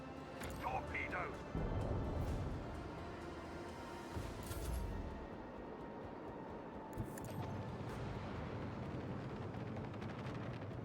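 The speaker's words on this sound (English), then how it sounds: "Torpedoes." Space combat torpedo explosions in a Warhammer 40k game, Drukhari side: heavy booming blasts and rumbling impacts under a dense layer of game noise, with a louder burst early and another near the middle, continuing steadily to the end.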